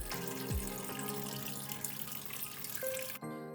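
Collard greens washed by hand in sink water, a loud continuous rush of running water with sloshing and splashing that cuts off abruptly near the end.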